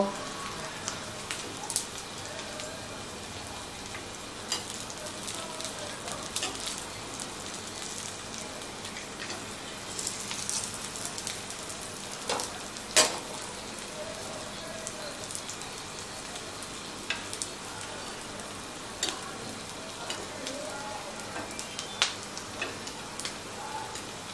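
A potato tikki fries gently in oil over low heat, giving a steady soft crackle and scattered pops with occasional sharper ticks as it is turned over, close and fairly quiet throughout.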